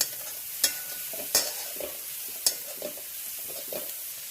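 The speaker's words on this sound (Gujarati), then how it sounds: "એને થોડી વાર તેલમાં સંતળાવા દઈએ, કેમ કે કોબીને સંતળાતા સહેજ વાર લાગે" Shredded cabbage sautéing in oil for hakka noodles sizzles softly, with several sharp scraping stirs of a spatula against the pan breaking through at irregular intervals.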